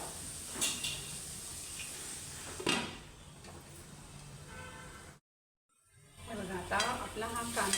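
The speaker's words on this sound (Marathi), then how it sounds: "पण थोडं झाकण देऊन मी ह्याच्यावर त्याला मुळ्याला शिजायला ठेवून देते." Radish and onion cooking in a covered pan, a steady close sizzle with occasional clatter, broken by a brief silence before the frying resumes.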